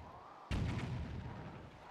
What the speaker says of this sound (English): Oh, you guys shooting your cannons at me?